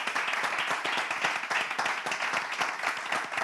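An audience claps together in a steady burst of close, dense applause that holds evenly throughout.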